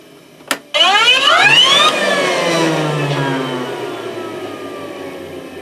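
A Rainbow E2 Type 12 vacuum cleaner starts after a sharp click, its motor whining up in pitch to a steady loud roar in circulating mode, then running on with a slight slow drop in pitch.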